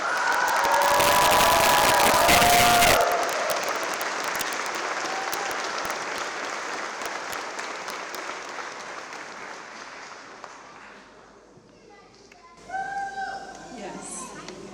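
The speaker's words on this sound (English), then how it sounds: "please give one last big round of applause to our doctoral" Loud applause and cheering from a ceremony audience honoring doctoral graduates at a university graduation, dense clapping that swells early then slowly thins and fades, with a brief voice near the end.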